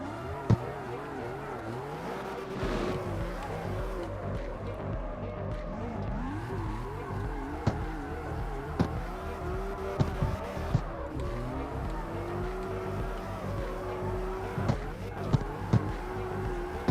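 Race car engine in Need for Speed Underground revs and shifts continuously, whining up and down with tire squeal, while someone talks over the game sound throughout.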